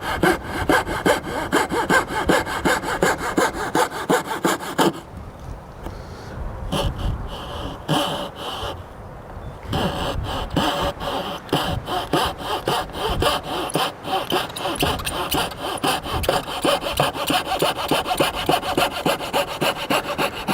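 Hand saw cutting a wooden trim piece at a bevel, close and loud, with steady rapid back-and-forth rasping strokes and a brief lighter pause midway.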